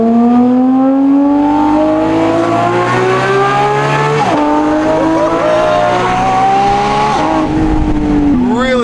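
A Porsche Spyder RS engine through an aftermarket exhaust revs hard, its pitch climbing steadily toward 5,500 to 6,000 RPM with sharp gear-change dips, a sustained high-RPM exhaust wail.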